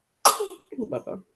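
A newborn baby gives a single sharp little sneeze, followed by soft voices speaking nearby.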